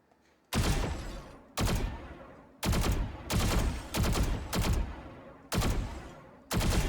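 Vandal rifle fire in Valorant's practice mode comes in eight short, loud, close bursts at a fairly regular pace of roughly one every second, with no talking.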